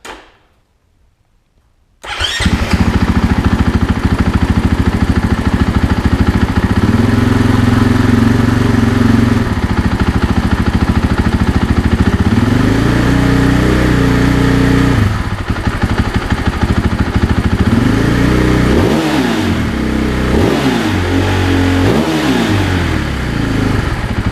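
A Husqvarna FE 501s motorcycle engine fitted with a Pro Moto billet exhaust end cap starts after a brief silence, then runs loud and steady at idle with several throttle blips rising and falling in pitch, close by, no talking.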